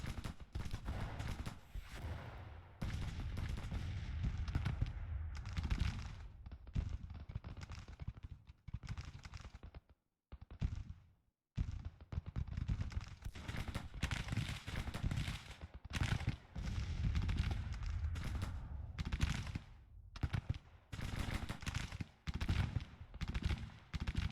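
Gunfire in a Grand Tactician battle at Helena during the 1864 Confederate campaign, as troops fire on cavalry: continuous rolling volleys and crackling shots, broken by one brief lull midway.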